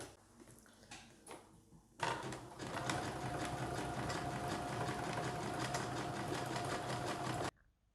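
A sewing machine zigzag-stitches seams on old denim jeans being remade into children's dungarees. It starts after two seconds of quiet handling, then runs loud and steady for about five and a half seconds before stopping.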